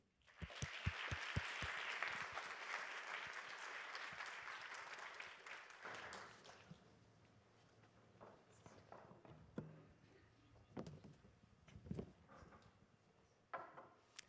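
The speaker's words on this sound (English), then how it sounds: "Give them a round of applause, please." A university forum audience applauds loudly and densely for about six seconds; the clapping then stops abruptly, leaving a quieter room with scattered thumps, knocks and footstep-like sounds.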